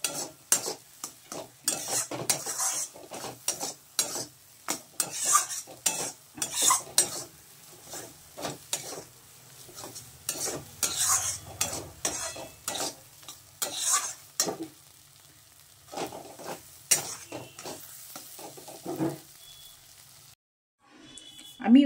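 Lote fish fries in a pan as a utensil stirs it, giving repeated scraping, clinking strokes over a low sizzle, close and irregular, pausing near the end.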